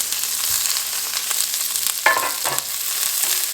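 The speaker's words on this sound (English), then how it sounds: "I'm going to add this cumin seed, half teaspoon, whatever is left over here. Just be careful, because oil is hot." Cumin seeds, onion and ginger frying in hot oil for a Himalayan dal aloo sabzi, a steady close sizzle with a brief louder crackle burst midway and no voices.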